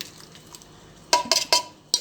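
A few clanking metallic knocks of a cooking pot being handled while making tomato rice, close and brief, after a quiet moment of soft kitchen noise.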